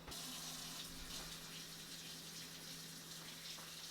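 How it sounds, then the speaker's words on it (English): Tap water runs steadily from a faucet into a sink during handwashing before mixing meatballs, a continuous close hiss of gushing water with no talking. "Go wash your hands first too."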